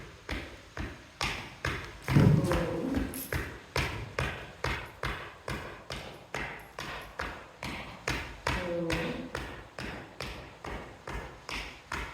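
Steady, evenly spaced tapping on a horse during sidling training, about two taps per second for twelve seconds, close and clear with no voices, and a slightly louder stretch partway through.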